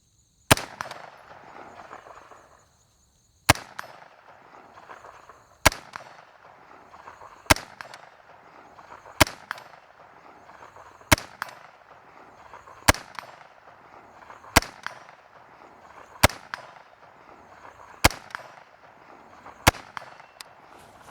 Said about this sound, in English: let's start off by shooting a few rounds out of this old girl at my challenge target at 100 yards